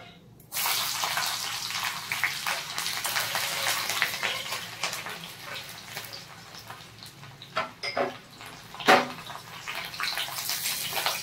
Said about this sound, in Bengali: এবার দিয়ে দেব রসুন কুচি।